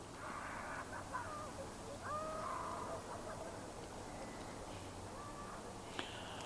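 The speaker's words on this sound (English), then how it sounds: "that's a bird" A bird calls outdoors at night during a paranormal investigation, a few faint, scattered cries over a quiet background hiss, heard alone with no talking.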